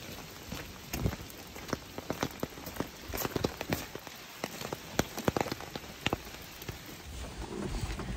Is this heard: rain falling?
yes